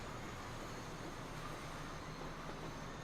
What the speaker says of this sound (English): There's our East Coast train.